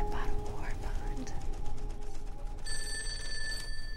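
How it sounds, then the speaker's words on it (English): Telephone ringing in a 1940s-style short film scene: a steady bell-like ring with a high metallic tone throughout, under a busy background, with a brighter tonal burst near the end and no speech. "Your phone's been ringing off the hook all day."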